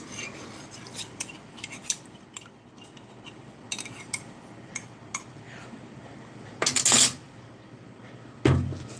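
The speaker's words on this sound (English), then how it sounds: "Some of the chocolate didn't quite dissolve, so I'm just stirring it up" A metal spoon clinks and scrapes inside a mug while stirring a chocolate drink, light scattered taps giving way to two louder bursts of rapid clattering near the end, in an otherwise quiet room.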